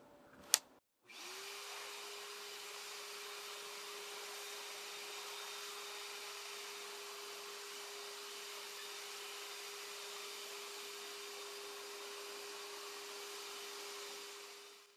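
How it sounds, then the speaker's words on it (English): A shop vac clearing dirt from a solar hot air collector starts after a brief click, then holds a steady, fairly quiet whine and rushing airflow to the end. "I'm just going to use the shop vac on blow and suck mode to clean out all of the dirt."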